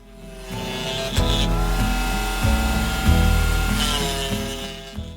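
A jigsaw mounted in a table cuts small wooden Christmas tree branches by eye, a loud continuous buzzing whine with shifting pitch as the blade bites through the wood, with no talking.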